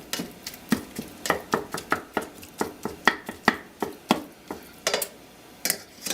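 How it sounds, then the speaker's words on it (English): Rapid, rhythmic tapping and scraping of a utensil breaking up ground beef in a pan, close up with no talking. "Flip, mince, then wait for it to sizzle."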